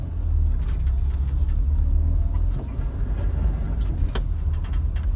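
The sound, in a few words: classic Mini car driving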